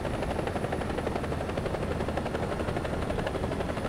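Rotor thump of a Bell AH-1G Cobra attack helicopter in the War Thunder combat game, a steady loud chopping drone that fills the whole stretch, with faint rattling gunfire mixed in.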